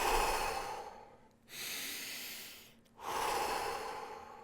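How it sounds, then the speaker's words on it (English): Two slow, deep breaths drawn in and let out at close range, each a long airy rush with a quiet gap between, taken calmly before a meditative hand gesture. "I just get myself a couple of deep breaths in."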